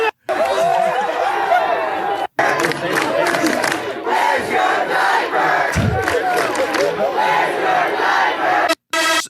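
A large crowd screams and chants loudly in unison, a dense roaring mass of voices broken by short cuts to silence.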